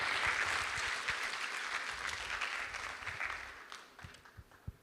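Audience applause at an international conference, dense clapping at first that gradually thins and fades toward the end of the clip, with a few scattered final claps.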